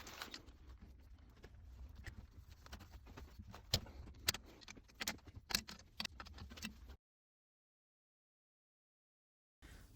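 A 9/16 spanner loosens the two bolts holding an SU H2 carburettor to the manifold of an MG TD, giving close, irregular metallic clicks and taps over a low hum before the sound cuts to silence.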